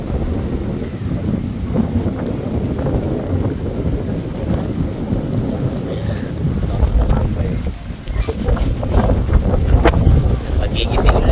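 Strong wind buffets the microphone at a beach in Palauig, Zambales, a loud continuous rumbling roar with gusts swelling and dropping throughout.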